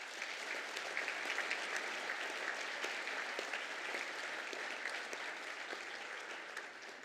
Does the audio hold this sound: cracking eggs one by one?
no